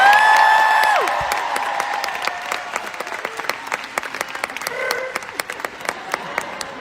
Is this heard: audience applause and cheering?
yes